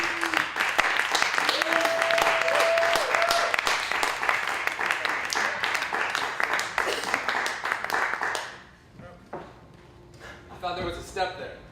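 An indoor audience claps and cheers loudly for a spoken word performer, sustained applause that fades out, followed by someone speaking near the mic.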